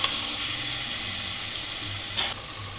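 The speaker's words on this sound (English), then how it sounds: "Stir it up just like that." Épices fry in a cooking pot with a steady, close sizzle while a spoon stirs through them, and a short scraping clatter comes near the end.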